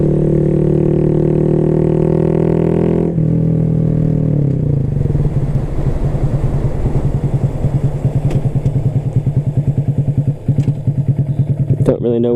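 A Honda Grom motorcycle rides along, its small engine droning loud and close, dropping in pitch after a gear change, then a rapid thumping putter with clatter and a few sharp clicks near the end.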